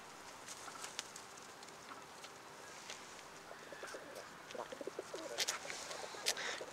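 Young tumbler pigeons coo softly in a loft, low murmuring calls near the end over a quiet background with faint scattered chirps and ticks.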